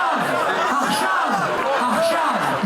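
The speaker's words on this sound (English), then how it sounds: "A crowd in Tel Aviv, Israel, rallying in support of the Israelis and others held hostage by Hamas for a month now, chants in Hebrew" A crowd rallies in Tel Aviv, Israel, in support of hostages held by Hamas, chanting in Hebrew. The dense, steady babble of many voices rises and falls in a rhythmic chant, loud and close throughout.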